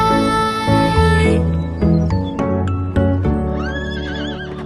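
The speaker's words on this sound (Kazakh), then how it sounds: "Мұғалжар жылқысы деген осы. Асыл тұқымды, жер жүзіне танымал жылқы түрі." Mugalzhar breed horses neigh loudly and close by, with a long whinny followed by rhythmic clip-clopping hooves and further whinnies toward the end.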